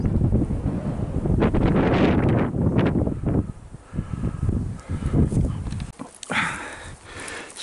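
Strong wind on an exposed path through coastal dunes on Holy Island of Lindisfarne, gusts buffeting the microphone in loud roaring bursts that ease into quieter lulls with footstep-like thuds.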